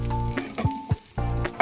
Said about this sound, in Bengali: মটরশুঁটিটাও বেশ ভাজা ভাজা হয়ে গেছে